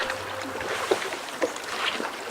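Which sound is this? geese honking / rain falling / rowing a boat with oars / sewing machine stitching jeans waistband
rowing a boat with oars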